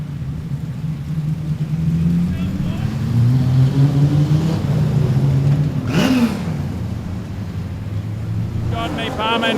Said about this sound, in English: Here comes car 27, Shane McDonald